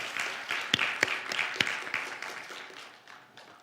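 Church congregation at a New Year blessing revival service clapping in praise, a fairly quiet wash of applause with a few sharp nearby claps standing out, gradually fading over a few seconds.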